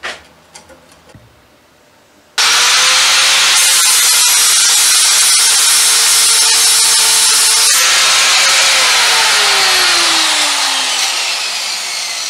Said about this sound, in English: I was going to take the grinder to that and kind of round everything off, make it look pretty